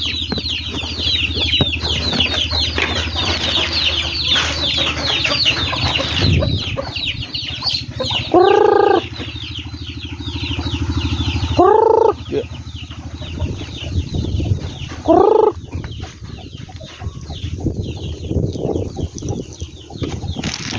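Hens cluck steadily nearby, with a few louder drawn-out squawks standing out. A person talks over the birds for much of the time.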